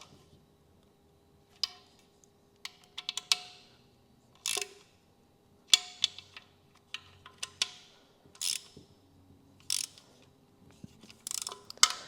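A ratchet works around the sump bolts on a Kia/Hyundai V6 engine, giving repeated short bursts of quick metallic clicking with brief pauses between bolts, close and fairly quiet.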